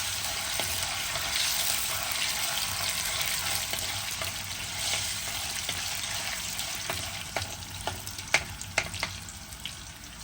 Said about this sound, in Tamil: பொரிச்சு எடுக்கணும். சலசலப்பெல்லாம் அடைஞ்சிடும்.